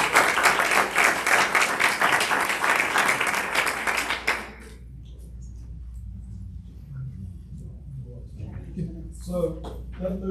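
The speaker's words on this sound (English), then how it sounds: "ask for another round of applause for these people" An indoor audience at a school board meeting claps for honored educators and students, a dense round of applause for about four seconds that stops abruptly, followed by quiet room sound and a voice speaking.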